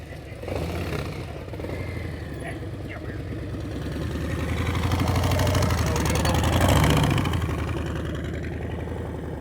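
A motorcycle engine runs at low revs during slow-speed riding practice, a steady mid-pitched rumble that swells slightly as the throttle is held, with a voice giving instructions over it.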